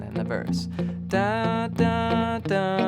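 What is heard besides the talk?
No distinct noise like a dog, phone or traffic.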